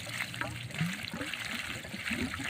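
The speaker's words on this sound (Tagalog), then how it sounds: "nandito na po yung tubig natin." Water runs from a tank hose that had a kinked section cut out and joined, a soft continuous trickle and gurgle close by with small sloshing bursts, alone without talk.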